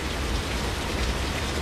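Steady rain falls hard and close, a dense, continuous patter with no pauses and no voices.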